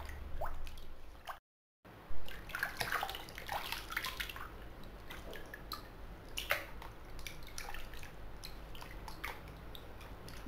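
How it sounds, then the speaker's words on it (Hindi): Water poured by hand over feet in a tub, soft close splashing, dripping and squishy sloshing that continues steadily apart from one brief break, with no talking. "पानी को ऊपर अपने पैरों पर ऐसे डालना है"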